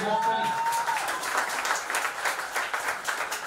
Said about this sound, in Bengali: তো আপনার জন্য জোরে হাততালি